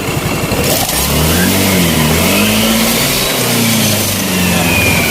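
Honda Elegance 135 scooter engine revving during warm-up, a steady close buzz that climbs and dips in pitch as the throttle is blipped, with no talk over it.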